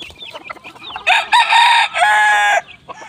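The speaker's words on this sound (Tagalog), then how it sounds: "Bigyan na po natin ng patuka mga kaibigan yung ating alagang sisiw dito sa loob" Pet chicks being fed indoors let out loud, close bursts of high chirping and clucking calls, two longer calls standing out amid softer peeps.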